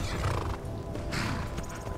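A horse neighs in the Skyrim video game, a loud, shaky whinny in two bursts over a steady low game rumble, with no talking.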